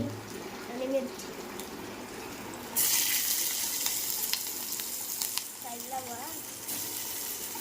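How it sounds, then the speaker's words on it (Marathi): Garlic and bell pepper frying in a hot pan, a steady sizzle that jumps sharply louder partway through as more goes in, with a brief voice and faint kitchen clatter underneath. "टोपशी आपली गरम झालेली आहे, त्याच्यात आपण टाकतो लसूण, त्याच्यानंतर शिमला मिरची"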